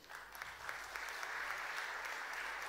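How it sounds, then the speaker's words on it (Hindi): Steady crowd applause in a hall in Bhopal welcoming UPSC exam toppers, a dense continuous patter of clapping filling the moment with no break. "तालियों से स्वागत करिए, अभिनंदन करिए यूपीएससी में उत्तीर्ण सभी छात्रों का।"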